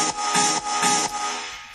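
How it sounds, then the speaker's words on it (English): A piano heavily distorted with the iZotope Trash plugin sounds as harsh, noisy, bright bursts, about four rhythmic swells over a couple of seconds, with no talking. "I actually just distorted the whole piano so much that it sounds like this."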